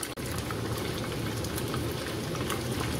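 Food sizzles in a pan in a home kitchen while capcay and sea-fish sambal are being prepared, a dense, continuous crackling hiss heard close up with no talk.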